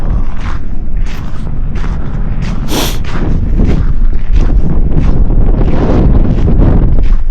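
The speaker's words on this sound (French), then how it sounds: "il y a un petit courant d'air, un petit vent" Wind gusts over a frozen harbour in Lapland, buffeting the microphone with a loud, rough rumble, mixed with intermittent creaks and hissing bursts that come and go over several seconds.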